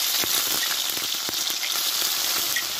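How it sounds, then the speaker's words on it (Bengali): Whole cumin seeds crackle and fry in hot oil, a continuous near sizzle with small pops and stirring clicks, heard alone without speech. "দেখো এই তেলে কিছুটা আমি গোটা জিরে দিয়ে দেব"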